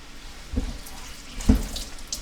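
Tap water runs into a sink while Vienna sausage cans are rinsed, a soft steady stream with two brief splashy clunks as the cans meet the water, close and without talk.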